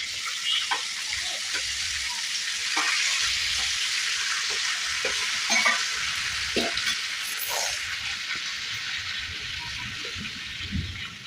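Tomatoes fry and sizzle in a pan for tomato-coriander chutney, a steady broad hiss with scattered soft scrapes and clicks of stirring throughout, fairly close and even in level.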